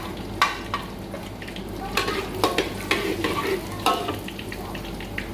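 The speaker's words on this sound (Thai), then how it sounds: "เขาจะเอามะเขือแห้งลงก่อนไปทอดให้กรอบ ๆ" Dried eggplant fries in hot oil in a pan, a steady sizzle punctuated by sharp stirring scrapes and knocks at a loose rhythm, close and fairly loud, with no talking.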